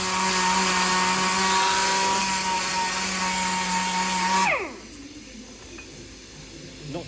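A hacksaw found in a ditch rasps through material in fast, even strokes, loud and close, then abruptly stops, leaving quieter background hiss.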